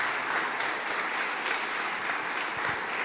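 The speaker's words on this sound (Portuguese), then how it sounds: "dá um forte aplauso ao Senhor em nome de Jesus" A church congregation at a Sunday service applauds with steady, dense clapping that fills the room evenly at moderate volume, with no voices standing out above it.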